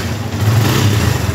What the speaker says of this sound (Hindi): ग्रिप लगाने के बाद दोस्तों आपकी बाइक जो है वो स्टार्ट हो जाएगी